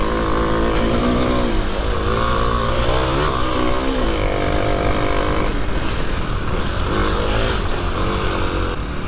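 A Kawasaki KLX300 dual sport motorcycle engine held at full throttle, a loud, close, continuous buzzing roar whose pitch rises and wavers in surges over about nine seconds.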